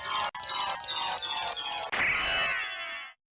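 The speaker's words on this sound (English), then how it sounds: "the sound effect which happens when you defeat a boss actually plays more slowly than it should on the PlayStation" Castlevania: Symphony of the Night boss-defeat sound effect in its slowed PlayStation version: a bright, dense, shimmering electronic burst in pulsing waves, then a crashing, sparkling swell that fades out after about three seconds.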